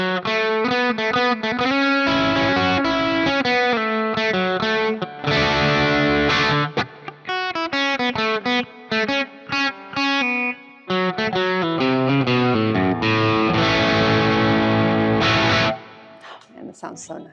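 Offset electric guitar run through effects units, loud and continuous, with distorted, chorused chords and melodic lines ringing out alone before fading at the end.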